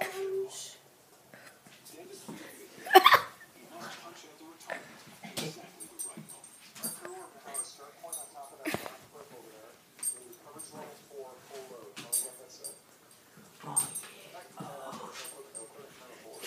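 A puppy makes soft growls, whimpers and yips while being handled roughly in play, quiet and close, with a person talking and laughing over it throughout.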